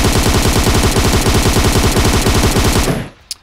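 An M762 Beryl rifle fired from the hip in PUBG lets out a fast, steady stream of loud automatic shots for about three seconds, then stops abruptly, followed by a single faint click.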